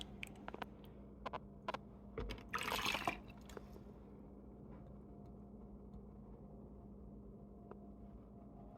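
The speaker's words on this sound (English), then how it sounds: "we want to fish out a bunch of the liquid, and I'm putting it in this because it has this strainer" Cooking liquid from a slow-cooker chuck roast is poured through a strainer, giving a brief, soft splashing trickle that swells for a moment, then fades into a quiet room hum with a few light clicks.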